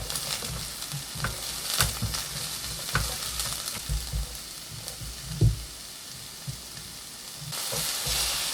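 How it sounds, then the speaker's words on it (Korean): Onion stir-fries in a pan with scallions and oil for an eggplant side dish, with a strong, steady sizzle close by and repeated stirring scrapes and knocks of the spatula. "양파를 넣고 볶아줍니다."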